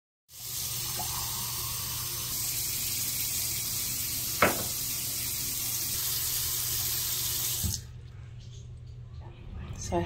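Water running steadily from a tap into a container holding plant cuttings, a continuous close rush with one brief clink, then stopping and leaving a quieter tail.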